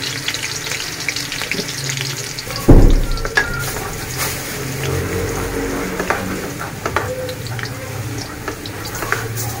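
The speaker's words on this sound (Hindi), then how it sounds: "ये हमने घी में प्याज डाल दिया अब इसको हम थोड़ा सा ब्राउन करेंगे" Onions frying in ghee for vegetable pulao give a steady broadband sizzle throughout, with a sharp knock near the start and scattered clinks of stirring over the continuous hiss.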